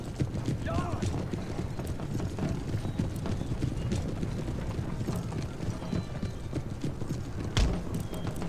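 Cavalry horses in the strategy game Empire: Total War gallop in a dense, continuous clatter of hooves. A brief whinny and mechanical clanks rise above it, and someone talks over the steady noise.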